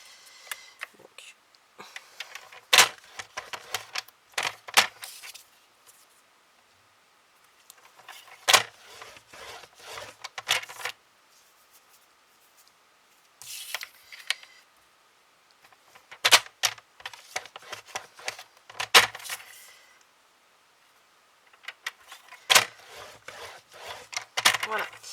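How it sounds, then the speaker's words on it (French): Cardboard being creased and folded by hand at 1 cm around the edges for a chocolate dispenser, giving bursts of scraping, rubbing and crisp snapping strokes separated by quiet pauses. "on va faire un pli tout le tour à 1 cm"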